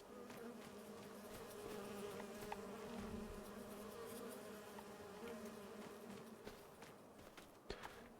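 Bees buzzing around hives in the Farming Simulator 25 video game, a steady dense insect drone that persists throughout with a few faint clicks on top.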